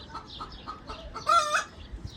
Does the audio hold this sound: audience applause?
no